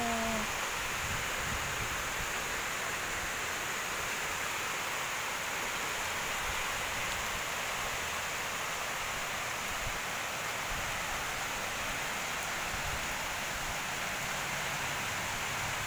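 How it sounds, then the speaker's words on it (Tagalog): Heavy rain pours steadily near a waterfall in the foggy highlands of Cebu, a constant broadband hiss and roar with no break or change, heard on its own without voices. "Grabe pagkusog sa ulan."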